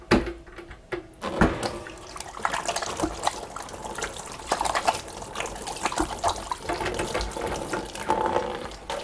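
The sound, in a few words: washing hands under running water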